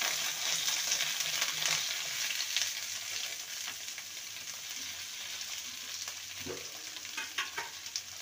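Mixed winter vegetables fry in a pan for moong dal with a continuous loud hiss of oil and occasional stirring clatter toward the end.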